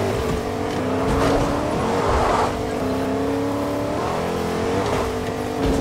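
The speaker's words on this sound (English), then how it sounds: "I hear a truck." Truck engine in a multiplayer arena video game, a continuous droning motor with shifting pitch that rises and falls as it revs, steady and fairly loud throughout.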